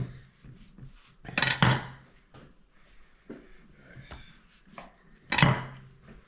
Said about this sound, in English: we're gonna cut these in half and butterfly them